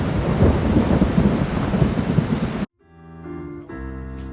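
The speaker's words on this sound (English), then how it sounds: "once again we had a terrific rainstorm during the night" A nighttime thunderstorm over colorful bungalows in Hat Lamai, Thailand: a dense, steady roar of heavy rain with rumbling thunder that cuts off abruptly, then quiet music takes over.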